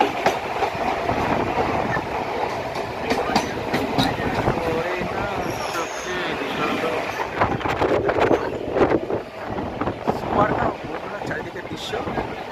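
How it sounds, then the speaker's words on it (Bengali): A train runs along the tracks with a loud, continuous rolling rumble, rhythmic clickety-clack and wind buffeting, while another train passes close alongside. "পাশ দিয়ে আরেকটা ট্রেন আসছে।"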